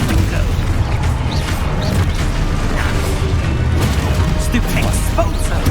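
Booming blasts from the Confringo fire spell in Hogwarts Legacy break out repeatedly amid dense, noisy combat, with loud bursts and crashes continuing throughout.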